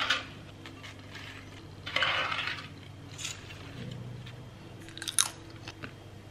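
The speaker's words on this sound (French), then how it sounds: "Alors goûtons nos petites frites d'aubergine." Quiet crunchy bites and chewing of crispy homemade vegetarian eggplant fries, a few distinct crunches spaced out with faint dish and cutlery clinks, no talking.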